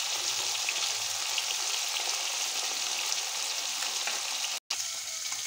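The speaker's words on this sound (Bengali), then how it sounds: "আর এই মাছটা ভাজছি" Fish sizzles steadily in hot oil in a wok, a dense continuous frying crackle close up with a brief cut near the end.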